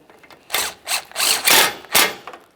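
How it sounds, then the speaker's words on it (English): Ratchet wrench tightening 10mm-headed radiator mounting bolts on a 2009-2014 Nissan Maxima 3.5L V6, heard as several close, sharp bursts of rapid clicking separated by short pauses. "Tighten those 10mm headed mounting bolts."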